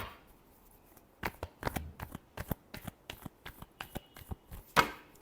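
Tarot cards are shuffled by hand in a quick run of crisp riffles and slaps, a dozen or so close, sharp bursts in uneven rhythm after a quiet start, with no voice.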